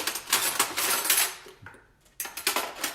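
Metal kitchen utensils clink and rattle close by as someone rummages for a long spoon while preparing wild garlic pesto, a dense clatter that pauses briefly and then resumes.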